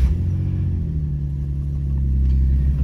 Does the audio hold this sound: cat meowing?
no